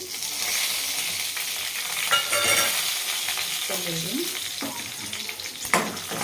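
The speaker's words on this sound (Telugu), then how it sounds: "ఇదే కళాయిలో తాలింపుకి ఆయిల్ వేస్తున్నానండి ఆయిల్ హీట్ ఎక్కిందండి" Steady loud sizzle of cumin and dried red chillies frying in hot oil in a kadai, with a few stirring scrapes and clinks over the crackling hiss; no talking.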